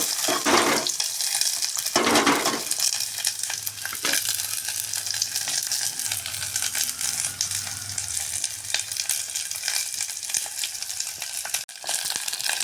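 Ivy gourd (tindora) fries in hot oil over a high gas flame, giving a constant sizzle broken by louder bursts of hissing and scraping as the pan is stirred. No one speaks.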